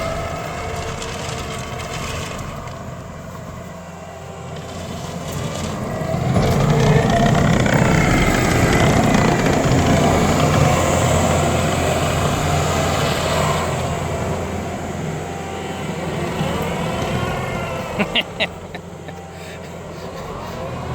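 A tracked vehicle turns on a gravel driveway in a three-point turn. Its engine rumble and grinding swell through the middle, then ease off, with a few sharp clanks near the end.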